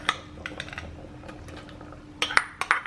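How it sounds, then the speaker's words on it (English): Bamboo shoot goes into a pot of boiling chicken curry with lemongrass: light clinks of a utensil against the pot over a soft bubbling background, ending in a few sharper metallic taps. "So add this bamboo shoot."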